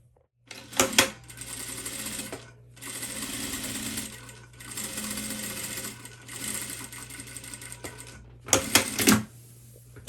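Sewing machine stitching across the end of a zipper fly, several loud bursts of rapid mechanical chattering separated by brief pauses, close and clear.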